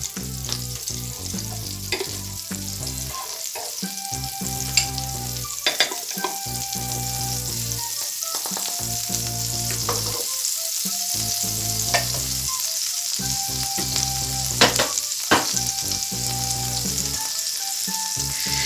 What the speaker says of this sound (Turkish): Izgaramızın üzerine biraz tereyağı şöyle biraz da diğer tarafına.